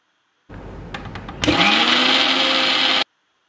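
A mixer grinder whirs briefly, then its motor surges into a loud, steady high-pitched grind as it purees turmeric chutney with grated coconut, close up with no talking.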